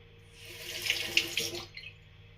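Cold water runs from a tap into a bathroom sink before shaving, a steady close splashing rush with a few sharper spatters as hands move under the stream, cutting off near the end.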